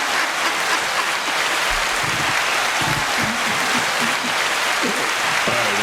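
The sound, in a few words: audience applause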